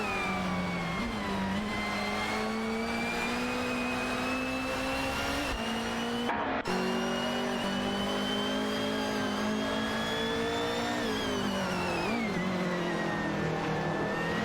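Racing cars in a video game, a continuous loud engine drone with tonal revving that rises and falls as the cars accelerate and shift, one brief dropout near the middle, no talk.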